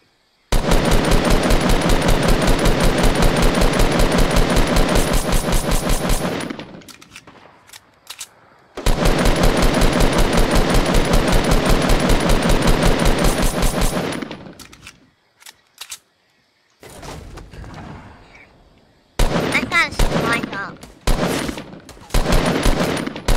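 Rapid automatic gunfire in Fortnite Battle Royale, two long sustained bursts of loud, dense shots, followed by scattered single shots and shorter volleys, with no talk.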